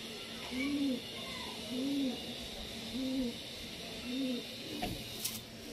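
Pigeons coo nearby in a slow, evenly spaced series of four low rounded calls over a faint steady background hum, with a short rustle at the end.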